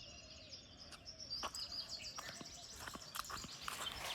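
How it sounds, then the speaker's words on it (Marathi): Birds chirp and call in a village garden near a well and tamarind tree, with short scattered tweets over steady faint outdoor background noise, some distant and some closer. "आणि हा पक्ष्यांचा गोड आवाज फक्त गावाकडेच ऐकायला मिळतो."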